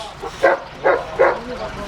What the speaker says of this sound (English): I don't know if I've ever seen a dog that big.